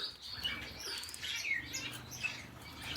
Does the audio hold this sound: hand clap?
no